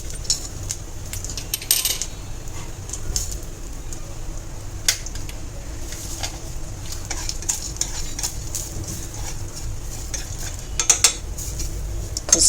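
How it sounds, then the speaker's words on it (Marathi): Poppy seeds are stirred into coconut in a pan over low heat, giving a soft, continuous sizzle punctuated by repeated metallic scrapes and clinks of a spoon against the pan, a few louder near the start and end. "खसखस जळेल म्हणून पटकन खोबऱ्यामध्ये तो मिक्स करून घेतला."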